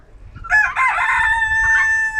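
A rooster crows loudly and close by in a backyard, one full cock-a-doodle-doo call that stretches for well over a second with a long, drawn-out ending.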